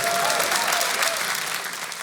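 Audience applause mixed with cheering, a dense steady roar of clapping from a crowd reacting to a remark about healthcare being a criminal enterprise, loud throughout and tapering slightly at the end.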